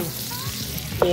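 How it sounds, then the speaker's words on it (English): Chopped bacon sizzling and frying in a pan, a steady crackling hiss throughout with a brief clink near the end. "Something so enjoyable about the sizzle when you cook."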